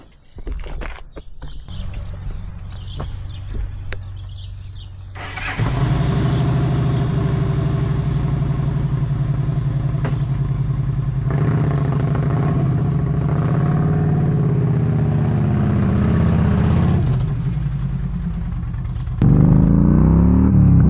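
Yamaha V Star 1300 Deluxe motorcycle starting off: a few seconds of lighter noise, then a steady, loud engine drone while riding, with a brief rise in revs near the end.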